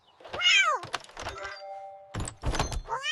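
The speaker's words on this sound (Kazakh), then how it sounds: "Мысық." A cartoon cat gives a rising, wavering meow near the start, with further vocal sounds, a thump and a brief clatter following in a busy animated scene.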